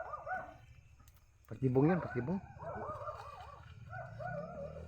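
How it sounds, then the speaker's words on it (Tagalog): Several dogs bark and howl from nearby houses along a canal, a burst of yelping and howling rising partway through, with someone speaking over and around them. "Maraming mga aso na nagtahol."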